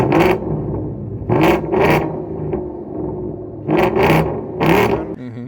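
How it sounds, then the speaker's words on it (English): A Ford Mustang with a Flowmaster axle-back exhaust and manual transmission revs in several loud, short bursts, deep throaty rumbles separated by brief quieter gaps. "It's a Flowmaster that sounds amazing."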